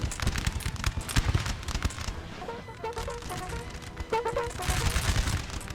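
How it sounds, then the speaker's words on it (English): Prussian Fusiliers fire a ragged musket volley at close range in Napoleon Total War. Many crackling shots overlap in a dense, rolling burst with battlefield din beneath, and the shots thicken again near the end. "These guys should be loaded, so it should be a nice volley close up here"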